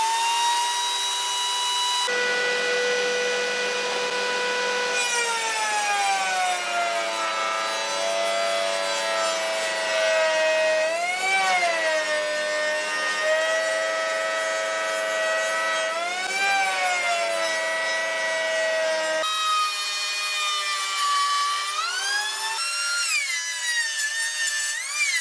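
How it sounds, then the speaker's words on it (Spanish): A router on a router table milling a wooden slat gives a loud, steady high whine with tones that shift slightly as the wood is fed, holding for the whole stretch with no talk. "Y voy a fresar este listón de madera."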